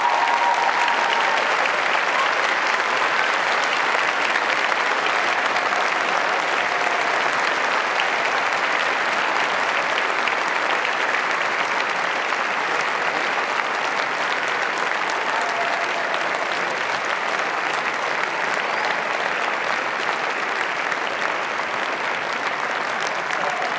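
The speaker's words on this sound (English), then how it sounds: "applause" Graduation ceremony audience at Cardiff University giving a sustained, enthusiastic round of applause, a dense even wash of many hands clapping in a large hall, loud and unbroken throughout.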